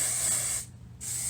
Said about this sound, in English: You just spray each section